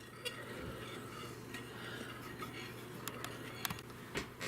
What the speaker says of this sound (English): I'm gonna add the other 1 cup and continue to stir until everything is all dissolved.